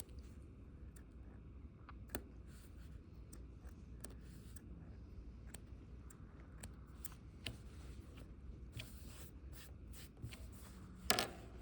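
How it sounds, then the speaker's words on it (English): Small, dry snips of scissors trimming sewing-machine threads close to the fabric after backstitching, a few faint clicks spread over a quiet room hum, with one sharper snip near the end. "I can go and trim these threads nice and close to the fabric"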